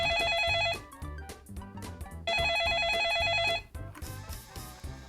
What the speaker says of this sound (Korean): 저희가 한 장관께 지금 준비 중인데 전화 좀 걸어보겠습니다